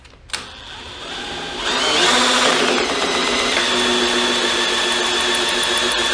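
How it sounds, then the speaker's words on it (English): A power drill whirs steadily as it drives the axle of a Cub Cadet dozer build, starting with a sharp click and then climbing to a constant loud, close hum with a high whine on top. "Let's run it with the drill."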